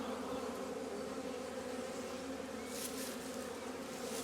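Dense, steady buzzing of many honey bees swarming around an opened hive with comb on plastic frames, continuous and close throughout with no voices.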